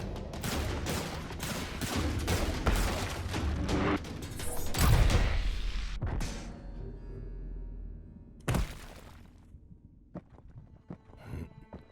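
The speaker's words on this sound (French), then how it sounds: "Toi, t'essaies de lui caler un tir paralysant." A stun shot fired in a sci-fi motion comic: a dense run of rapid zapping shots and impacts building to a loud burst, then a sharp single hit and fading tail.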